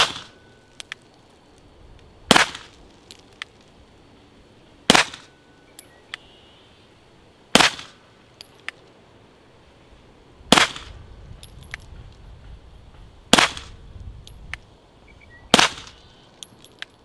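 Six sharp, loud shots from a CZ P-09 pistol fitted with a GEMTECH GM-45 suppressor and firing 147 grain Browning full metal jacket rounds, spaced about two to three seconds apart outdoors, with no talking.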